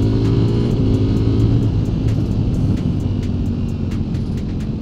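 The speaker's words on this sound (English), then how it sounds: "the engine is moving so rapidly at those high RPMs" A Ducati Panigale V4S with a Desmo V4 engine and a 15,000 rpm rev limit howls at high revs, a loud, steady, buzzing engine note under constant wind roar, with no talk.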